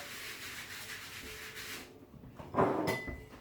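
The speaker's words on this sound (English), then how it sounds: "I'm going to lightly dust it with flour, so the rolling pin don't stick. Spread the flour over." Flour being spread by hand over pastry dough on a work surface, a soft continuous rubbing for about two seconds, then a brief pause and a louder, closer swipe.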